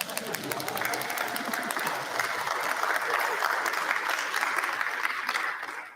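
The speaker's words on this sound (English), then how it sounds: "your very own clapper to add to the applause and the joyful noise of our celebration" A commencement audience claps and shakes handheld clappers in a dense, bright, continuous roar of applause that holds steady before fading at the very end.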